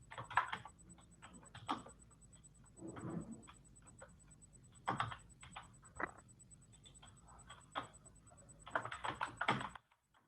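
Computer keyboard typing in bursts of quick clicking keystrokes with short pauses, fairly close and moderately loud, while entering data for a report.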